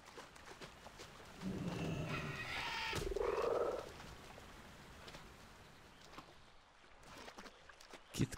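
Frogs croak in the World of Warcraft Pandaren starting zone, a cluster of loud, close croaking calls in a burst that fades into quieter game ambience.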